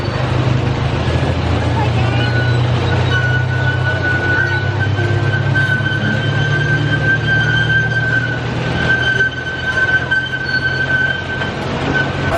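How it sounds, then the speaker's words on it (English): A small amusement park mini train pulls out of its station, a loud steady rumble of rolling wheels with a high sustained squeal running through most of the stretch, heard up close outdoors. "Got a little mini train there leaving the station."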